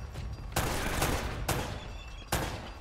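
Loud, sharp gunshots in Uncharted: Drake's Fortune, three strong cracks about a second apart over a steady din of ongoing firefight.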